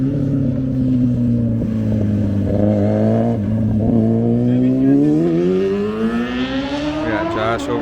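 A Chevrolet SS running E85 with full bolt-on headers idles with a deep, loud burbling rumble, then the revs rise smoothly toward the end, its tone climbing and growing raspier, heard up close outdoors at a car meet.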